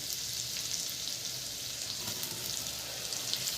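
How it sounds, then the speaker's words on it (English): Chopped onions fry in a pot over medium flame, giving a soft, steady sizzle and hiss throughout with no talking. "I'm going to allow this onions to nicely cook for about 5 to 7 minutes on medium flame."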